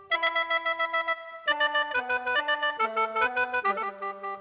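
A khaen voice played on a Casio CTK-4000 keyboard, a reedy sustained chord that moves into a run of quick rhythmic notes with a steady drone beneath, close and clear with no talking.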